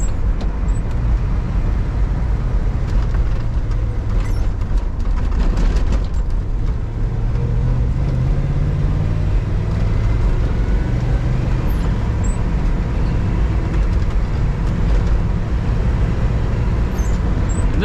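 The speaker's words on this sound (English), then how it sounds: "Slow down for the train tracks up here as they are really rough." A 1968 Buick GS 400 Convertible's engine rumbles steadily as it rolls over rough railway tracks, with a few bumps and rattles around the middle.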